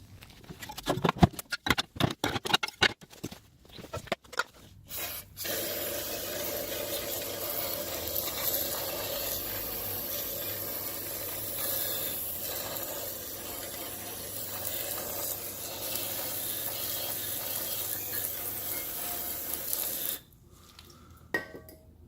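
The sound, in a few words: spraying degreaser from a spray can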